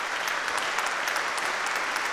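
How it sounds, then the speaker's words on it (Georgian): Audience at a televised song contest final gives sustained, dense applause, loud and even throughout with no talk over it. "მხურვალე აპლოდისმენტებით მინდა რომ გაგაცილოთ სცენიდან"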